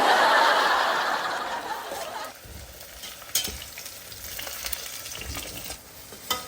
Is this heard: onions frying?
yes